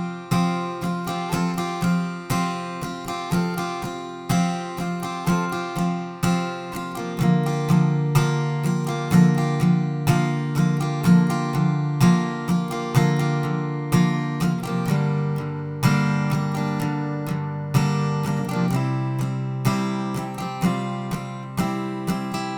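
An acoustic guitar strums the verse chord progression of a song in a steady rhythmic pattern, chords changing every few seconds, close up with no voices.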